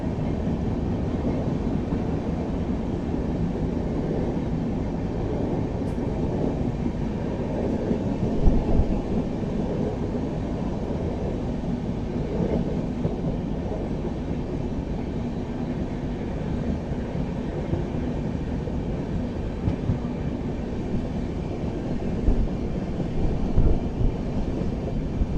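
Chennai to Bengaluru Superfast Mail running at speed, a steady loud rumble and rattle of wheels and carriages heard from inside, with wind buffeting throughout and no voices.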